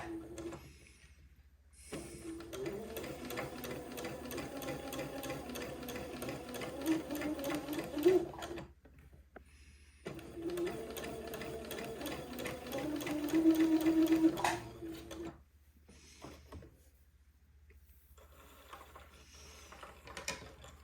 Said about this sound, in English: And then I'll sew my second basting thread 1/4 of an inch away from the first one.